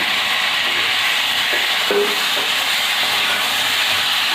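Chunks of potato and taro drop into a hot frying pan and hiss with a steady, dense sizzle that holds at an even loudness throughout, with a few faint clinks underneath.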